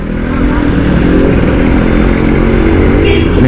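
A Suzuki Shogun motorcycle engine runs steadily nearby with a loud, continuous droning hum and no clear revving.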